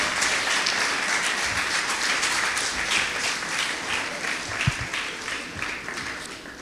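Steady applause from a school audience at a principal's report fills the room with dense, continuous clapping at an even level, fading slightly toward the end.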